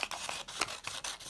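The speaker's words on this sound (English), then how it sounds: "here comes the bit with the scissors" Quick, rhythmic snips of scissors cutting through paper, five or six crisp strokes in a row, close and fairly soft.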